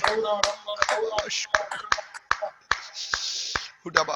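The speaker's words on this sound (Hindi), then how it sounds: "तालियां बजा के आराधना कीजिए." A worship congregation claps hands in a steady, brisk rhythm of sharp, close claps, with singing and voices flowing around them.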